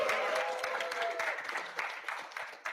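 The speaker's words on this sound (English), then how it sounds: "Ethan deserved that applause too" Audience applause at a general body meeting, a burst of clapping from a modest crowd that thins out into scattered claps, with a voice speaking briefly at the start.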